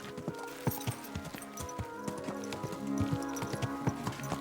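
Horse hooves clip-clopping in the video game Kingdom Come Deliverance 2, a steady rhythmic stream of close hoofbeats on hard ground over a low tonal game score.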